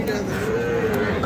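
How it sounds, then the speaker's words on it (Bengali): Cow mooing at a rural livestock market (haat) selling local-breed dairy cows with calves; one sustained, fairly loud low moo fills the short moment, over a dense crowd murmur. "এখানে গাভী"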